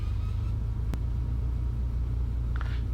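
A small airplane taxiing down a runway at Alpena, heard from inside as a steady low engine rumble with a single sharp click partway through and a faint rattle near the end.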